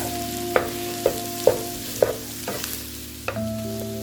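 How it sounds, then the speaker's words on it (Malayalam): Liver pepper fry sizzles steadily in a pan while a spoon stirs it after coriander leaves go in, with five or six sharp scraping knocks spaced about half a second apart over the constant frying hiss. "മല്ലിയില ഇട്ട് നമുക്ക് ഒന്നുകൂടെ മിക്സ് ചെയ്യാം."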